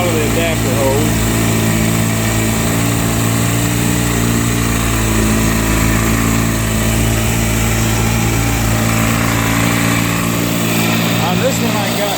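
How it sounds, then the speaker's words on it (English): A two-stroke outboard motor runs steadily in gear, a loud continuous buzzing drone with a strong low hum that holds even throughout, with no clear change as the fuel line is pulled. "Still got it running in gear. I'm going to pull the fuel line off."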